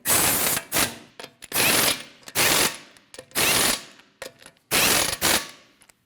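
A ratchet wrench snugs lug nuts onto the wheel studs of a 2012-2016 Honda CR-V, giving repeated close, loud clicking bursts in a rapid back-and-forth rhythm with short pauses between strokes.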